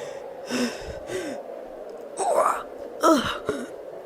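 A voice imitates a man gasping and gulping in shock, producing several breathy, moaning gasps in quick succession at close range.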